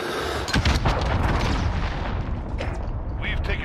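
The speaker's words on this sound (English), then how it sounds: "Allied cruise missile away." Cruise missile strike explosions in Call of Duty Modern Warfare burst out as heavy booms and rumbling blasts, loud and close, with a dense roll of detonations fading into scattered crackles.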